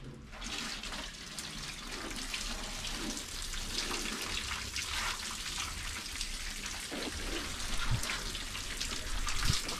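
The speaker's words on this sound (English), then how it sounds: "Just watering stuff underneath as well, that's good." Water spraying steadily onto plants and soil on a UK allotment in September, a continuous close hiss and patter with occasional drips and no talk.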